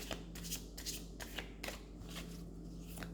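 Cards riffle-shuffled several times in quick bursts, crisp papery flutters close to the mic over a faint low hum.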